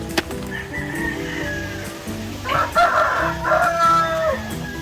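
An Aseel rooster crows twice, loud and close, the calls rising and falling over a busy farmyard with other fowl clucking in the background.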